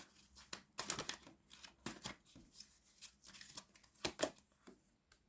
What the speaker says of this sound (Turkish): Ama şeytan kartın yanına bir kart daha çekmek istiyorum arkadaşlar.